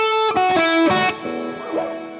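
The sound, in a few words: guitar delay and reverb effects in series and parallel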